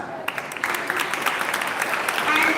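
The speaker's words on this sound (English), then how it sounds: "Can we have a round of applause?" Applause from a school audience at a science exhibition program, a dense steady patter of many hands clapping at moderate distance, continuing throughout after a brief quiet start.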